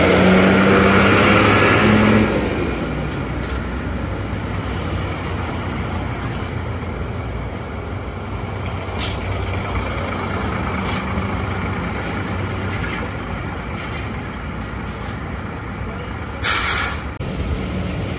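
A Pranajaya bus pulls away from the Pasar Rebo agent, its air brake hissing sharply at the start before a sustained diesel engine drone and traffic noise, with a few short beeps and clanks.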